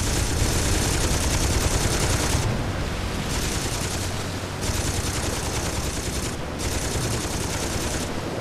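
Sustained, dense automatic gunfire from the crime action game Saints Row 2 roars almost without a break, loud and close, with only brief dips between long bursts.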